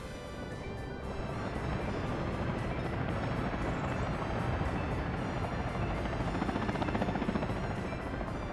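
A helicopter in the video game Workers & Resources: Soviet Republic drones with a steady, loud rotor chop and engine whine that runs unbroken from start to finish, with no talking over it.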